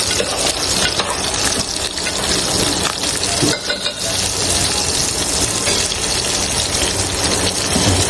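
Green chillies sizzling and frying in hot oil in a pan while making momo achar, a steady loud hiss and crackle running throughout with no talk.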